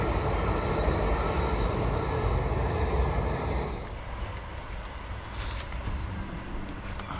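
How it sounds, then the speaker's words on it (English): A train rolls past along a rail bank behind the listener, a broad steady rumble that holds loud for several seconds, then thins as the cars move away, leaving a fainter continuing roll. "As you can hear, there's a train just going past."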